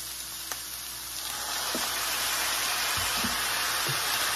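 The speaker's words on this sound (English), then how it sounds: "And I'm also gonna add some light soy sauce." Rice sizzling over medium-high heat in a pan as light soy sauce hits it, a loud hiss swelling and holding steady with a few soft utensil taps, no talking.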